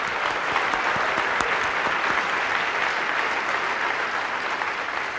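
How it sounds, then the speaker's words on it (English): Audience giving a round of applause at a James Randi Foundation meeting, dense, steady clapping from a large crowd, loud and even throughout. "Let's hear a good round of applause for that guy."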